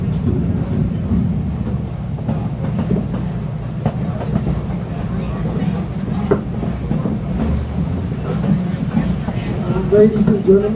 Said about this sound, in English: Ladies and gentlemen, we are pulling into the Kirby train station.